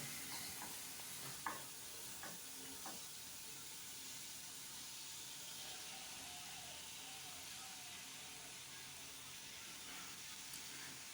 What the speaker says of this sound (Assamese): এতিয়া মই কাটি ৰখা বিলাহীখিনি লগতে পিঁয়াজখিনি আৰু কেৰাহীত দি দিম